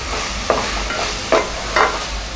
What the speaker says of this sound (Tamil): தக்காளி நல்லா வதங்கிட்டுருக்கு.